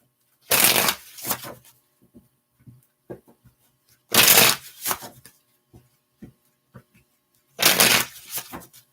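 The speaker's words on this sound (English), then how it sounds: "One more shuffle." Tarot cards are shuffled in three loud riffling bursts spaced a few seconds apart, each followed by softer taps and card handling, all close to the listener.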